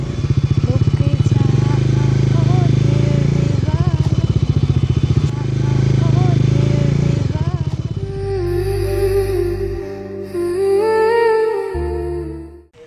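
A motorcycle rides along hilly mountain roads in North Bengal, its engine droning loud and close with shifting revs, then easing off as people talk.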